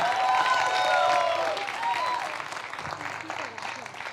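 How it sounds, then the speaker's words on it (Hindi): An audience at a fan meet claps and cheers in a steady wash of applause that slowly fades, with voices rising over it at the start. "जोर से ताली बजाएंगे यार"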